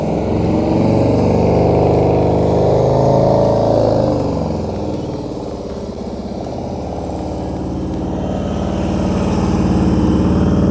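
A motorcycle creeps along at walking pace during a slow-speed control drill, its engine holding a steady low drone with mild swells as the throttle and clutch are worked, close and continuous throughout.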